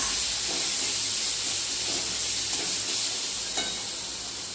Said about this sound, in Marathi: यामध्ये आपण वाटण केलेलं आहे मस्त असं परतून घेता